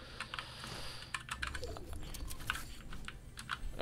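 Computer keyboard keys clatter in quick, irregular bursts during a Fortnite match, close but fairly quiet, with no one speaking.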